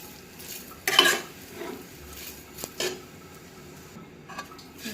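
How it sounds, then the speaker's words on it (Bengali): Soft, low sizzling of vermicelli frying in ghee, broken by scraping and clinking of a utensil stirring in the pan. "সুন্দর করে ভাজছি"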